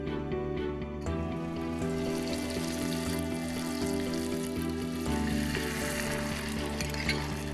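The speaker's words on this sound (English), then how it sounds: "I have my butter slowly melting in the pan, ready before we add our egg mixture there" Butter sizzles steadily in a frying pan as it melts before an egg mixture goes in, a soft, even crackle running throughout with a faint background hum.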